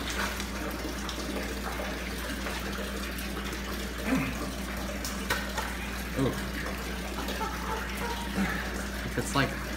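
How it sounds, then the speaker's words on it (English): Water drips and trickles steadily against a low hum, with faint splashes scattered through it and people talking quietly. "dripping water."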